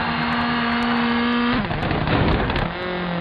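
Rally car engine from the Colin McRae Rally 3 video game, a steady high-revving drone that shifts pitch midway, then roughens into a gravelly burst before settling back to a lower tone, loud and close with no talk.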